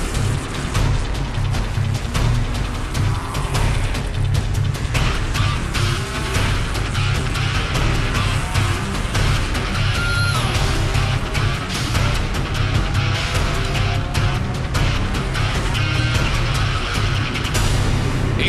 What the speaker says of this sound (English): Y'all want to see some racing?